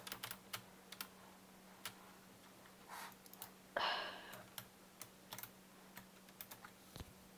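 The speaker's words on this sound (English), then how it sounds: "sorry if my keyboard is like really loud" Loud computer keyboard typing during a Minecraft session, sparse irregular key clicks at close range with a brief burst of faster keystrokes midway, over a faint electrical hum.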